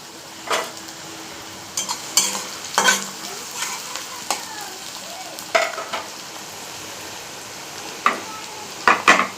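Onions fry in a pan for a Bengali katla fish kalia, a soft steady sizzle beneath scattered clinks and scrapes of a spoon stirring against the pan, with no one talking.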